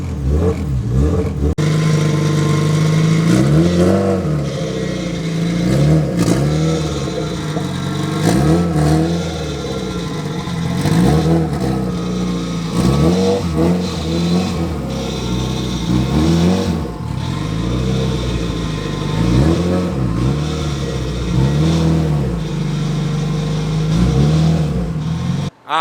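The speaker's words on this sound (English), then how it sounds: "Warm her up before we put her back in the garage." A Honda Civic EG engine, running on 93-octane fuel and idling a little rough, warms up close by with a steady mid-range drone, repeated rev swells and a slightly uneven rhythm, and no voices over it.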